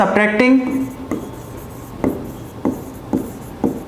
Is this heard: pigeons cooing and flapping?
no